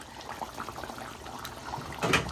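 Potato and duck egg curry bubbling in a covered pot, a soft continuous simmering burble with gentle popping, close and quiet, rising slightly near the end.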